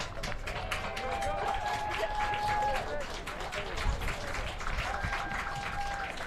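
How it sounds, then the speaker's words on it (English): Applause from a small, socially distanced, masked crowd at a league track meet, steady scattered clapping throughout with a commentator talking over it and a faint tonal whine in the background. "Getting some applause from the crowd here"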